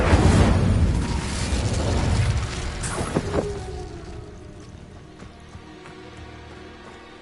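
Incendio fire spell cast in Hogwarts Legacy: a loud burst of fiery rumble at the start, then crackling pops that fade over several seconds into a quieter background hum.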